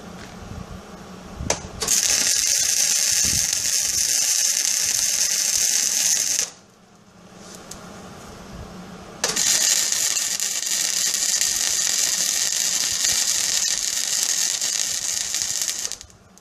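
Tack welding a mulching piece onto a steel mower blade: two long, loud bursts of harsh crackling arc buzz, separated by a short quiet gap, close up.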